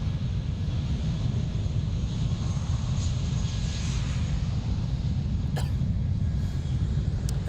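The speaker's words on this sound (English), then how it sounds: "the Qatar Airways, another special livery wearing the FIFA World Cup 2022 livery, off to Doha" A Qatar Airways airliner in FIFA World Cup 2022 livery departs Amsterdam airport for Doha, its jet engines producing a steady, distant low rumble with a few brief clicks, and no talk.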